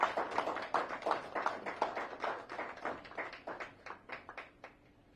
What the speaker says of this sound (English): Can we hear a big round of applause celebrating this wonderful moment?